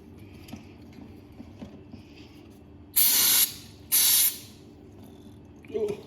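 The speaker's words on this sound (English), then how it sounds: "So let's give this a spray." Two short, loud hissing bursts of aerosol spray cleaner on a dirty 1971 VW Bus air-cooled engine, about a second apart, with quiet handling noises around them.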